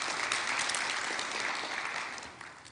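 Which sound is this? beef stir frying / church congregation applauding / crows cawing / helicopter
church congregation applauding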